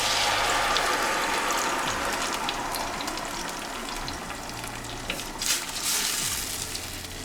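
Blended tomato cooking in a pan, a loud, dense sizzle and bubbling up close, steady throughout with a few brief clicks and scrapes.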